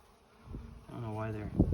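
Honeybees buzz around a caged queen in a hive, a rising close-up hum that swells and wavers, with a light knock or tap near the end.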